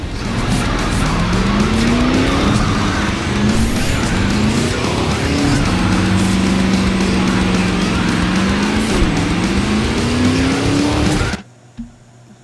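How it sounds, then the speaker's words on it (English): A DeLorean in a racing video game drives with a loud, rising and falling engine note and squealing, skidding tyres, all close and continuous before cutting out abruptly near the end. "I got the DeLorean, so I just drive with that"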